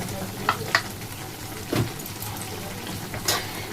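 Mustard oil sizzles and spatters in an appam pan for egg curry, with a few sharp crackles and stirring scrapes over a low steady hiss, close and moderately loud.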